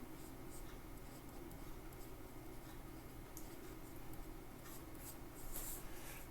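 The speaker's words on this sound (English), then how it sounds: "give myself a little quick drawing" Quick sketching of a cartoon character for animation, a continuous soft scratchy stroke sound, close and faint against a steady background hiss.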